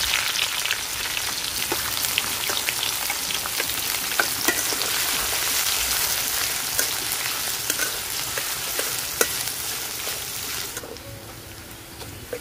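Chopped onion hitting hot oil already seasoned with bay leaves, cardamom and cinnamon, for a chicken moong dal, gives a loud, steady frying sizzle with crackling pops that runs throughout and eases slightly near the end.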